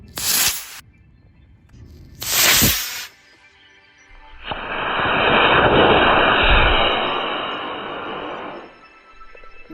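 A model rocket engine ignites and launches, letting out a loud roaring whoosh that lasts several seconds after two short bursts of noise.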